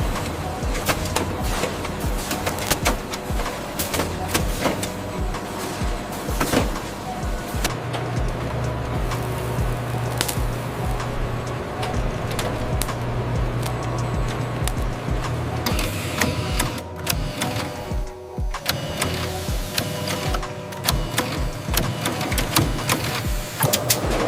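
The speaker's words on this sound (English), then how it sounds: "A coder marks the pack area, fast, precise, unseen details." A coder on a pizza factory packaging line prints marks onto pizza packs, heard as a steady mechanical whirr and rapid clicking amid loud, continuous line machinery noise.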